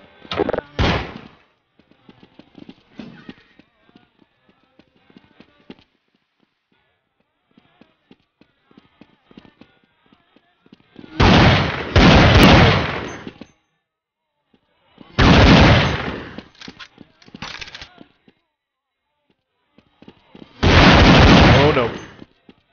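Counter-Strike 1.6 gunfire on the Arab Streets map: several loud bursts of automatic fire separated by quieter stretches of scattered single shots and game noise, close and sharp.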